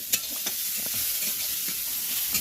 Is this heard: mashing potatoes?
yes